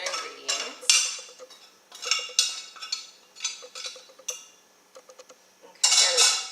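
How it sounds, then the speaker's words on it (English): Cooked potatoes tipped from a pot into a bowl of warm goat cheese salad ingredients, heard as a run of close clinks, scrapes and soft thuds against metal and glass in irregular bursts, with a louder clatter at the end. "take my mitt and add the potatoes to the other ingredients"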